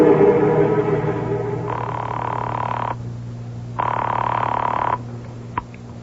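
Telephone ringing in two long, even bursts with a pause between, followed by a short click as an answering machine picks up, over a low steady hum with no talk.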